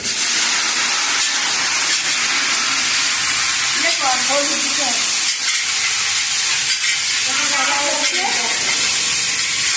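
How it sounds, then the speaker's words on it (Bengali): Cauliflower frying in hot oil in a wok, a steady hiss and sizzle running throughout, with occasional stirring and faint background voices. "কপি ভাজা হচ্ছে"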